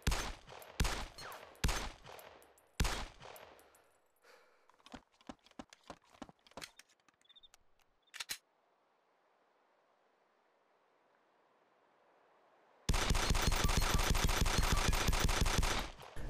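Glock pistol gunfire in the video game DayZ: loud bursts of sharp shots in quick succession, a few scattered single shots, a quiet pause, then a long rapid stream of fire at the end.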